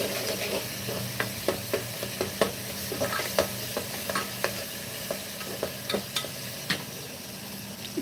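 Tomatoes sauté in a covered pan for rajma rice, giving a steady, moderate sizzle and hiss. Regular light clicks and taps from stirring run throughout.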